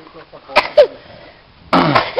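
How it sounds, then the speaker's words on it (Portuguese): Two short, sharp coughs close by from a person catching a cold in chilly mountain weather, followed after a pause by a burst of voices talking. "Tá tossindo, né?"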